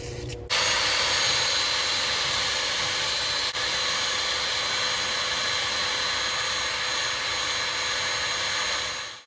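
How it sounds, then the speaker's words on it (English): A brass brush scouring the cylinder head of a vintage Donelson Mini Mule engine, a loud, steady whirring hiss that starts abruptly and runs unbroken for several seconds before cutting off, close with no talking. "we used a brass brush to prevent gouging the surface"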